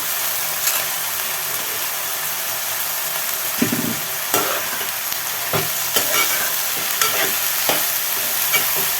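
Cluster beans fry in a pan with a steady, hissing sizzle throughout, broken by occasional scraping knocks as they are stirred.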